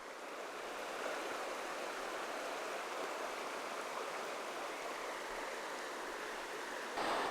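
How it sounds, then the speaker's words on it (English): A forest creek at a rainy Washington creekside campsite flows in a steady, dense rush of water, continuous and even throughout with no voices. "It is nice to hear the sound of the creek."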